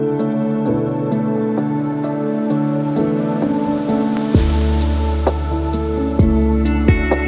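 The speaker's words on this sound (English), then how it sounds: "we've got 2 transition sounds that just help you move from intros into hooks" Washed-out transition effect in a lo-fi beat, a swelling airy wash of noise rising over mellow sustained chords, with thumping bass entering midway, soft and spacious with no voices.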